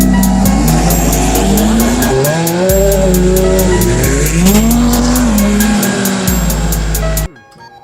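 An exotic sports car drives hard, its engine loud and close, revving up and down through gear changes with squealing tires, then it cuts off abruptly near the end.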